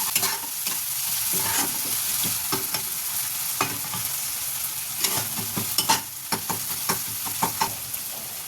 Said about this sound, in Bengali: দই দেওয়ার কিছুক্ষণ পর আমি পোস্ত বাটা দিলাম, সঙ্গে অল্প একটু জল দিলাম